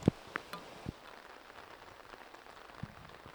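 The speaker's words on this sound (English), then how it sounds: "especially in the rain that we have going on right now" Rain patters steadily during an outdoor disc golf round, a soft, faint drizzle with a few sharper drops and taps near the start and no speech.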